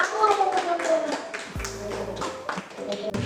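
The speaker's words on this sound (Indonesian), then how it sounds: "Tepuk tangan untuk Bang Akul." A small group at a microteaching competition presentation claps briefly while voices talk over it, the claps scattered and fairly close.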